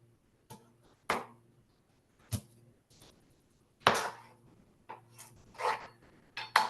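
A knife cuts sweet potato into strips on a board with about eight separate, close, crisp chops at an uneven pace, with quiet gaps between them.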